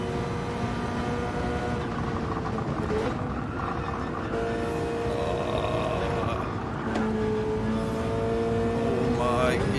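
A Subaru race car in Gran Turismo 7 running on a mountain trail with nitrous, its engine droning steadily and shifting pitch through gear changes and revs, loud throughout with someone talking over it.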